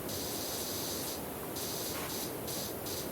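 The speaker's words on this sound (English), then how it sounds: "Well, I get started on cleaning. I get that spray down going." A cleaning spray bottle hisses in a continuous broadband spray lasting the full three seconds, loud and close, with brief gaps in the highest hiss between squirts and no talking.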